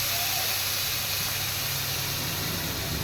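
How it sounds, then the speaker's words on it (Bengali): Whole spices and bay leaf sizzling in hot oil as tempering for aloo paneer dum, a steady loud hiss and crackle running unbroken throughout with no talking. "ফোড়ন দেওয়া হচ্ছে, তেজপাতা, আলুর দম করার জন্য ফোড়ন দেওয়া হচ্ছে"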